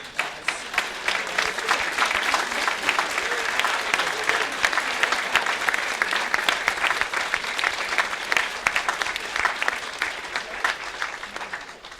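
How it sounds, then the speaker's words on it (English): Steady round of applause from a seated audience at a cancer support team luncheon, full and continuous, easing slightly near the end. "we would love a round of"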